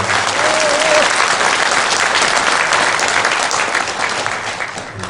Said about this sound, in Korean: 뜨거운 박수로 맞이하십니다